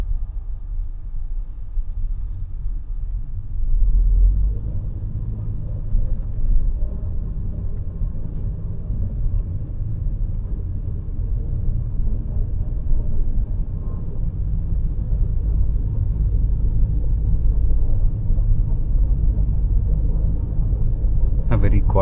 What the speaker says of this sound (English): The engine has switched on right now.